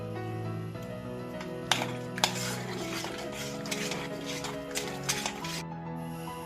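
Ragi flour mixture cooked down in a pot, heard as a spoon stirring and knocking against the metal in irregular clinks and scrapes, with soft background tones under it.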